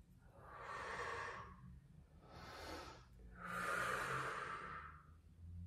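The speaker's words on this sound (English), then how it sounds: "Just doing the breathing on purpose" Deliberate, heavy breathing during a Pilates side-lying exercise in a studio: three long, airy breaths, the last the strongest and longest, close and fairly quiet with no speech.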